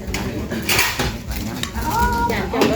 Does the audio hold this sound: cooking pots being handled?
yes